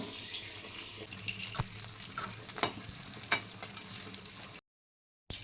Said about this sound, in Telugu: ఆయిల్ వేడైనాక మొత్తం ఇట్లా పోసుకోవాలి